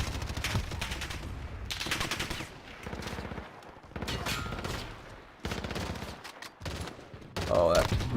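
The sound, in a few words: gunfire in Call of Duty Warzone video game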